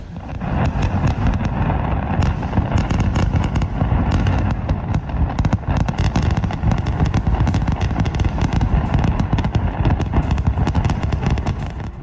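Large explosive blast across a site, heard as a dense, loud rolling barrage of cracks and booms with deep rumble that continues without pause for the whole stretch.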